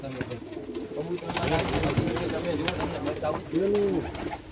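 Teddy pigeons coo softly in low rolling calls, several birds nearby, with people talking in the background.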